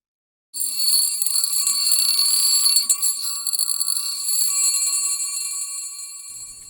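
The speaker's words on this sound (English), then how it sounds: "these are some kind of bellish, super small bells. In French, it's called grelot." Tiny grelot bells on a cat toy jingle in a bright, sustained metallic shimmer after a moment of silence, loud and close, then flutter unevenly as they keep ringing, with no talking.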